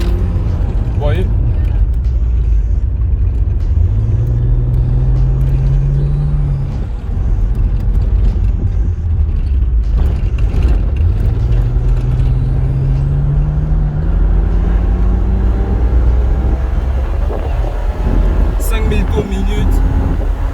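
BMW 330Ci convertible with its engine revving repeatedly up to about 5500 rpm, two rising runs against steady road and wind noise, with someone talking over it.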